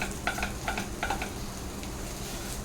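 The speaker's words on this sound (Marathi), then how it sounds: "मिक्स करून घेऊया बटाट्याच्या ह्या फोडी" Pieces of boiled potato, cut into small chunks and not mashed, sizzle steadily in a hot pan for a vada pav filling, while a spoon scrapes and stirs through them in a few quick rhythmic passes.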